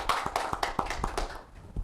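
Applause from an audience at a Rajasthan Parishad gathering honoring a guest, a burst of sharp hand claps close by that thins out and fades over under two seconds.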